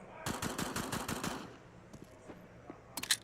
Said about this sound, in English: The weak sounding FAMAS.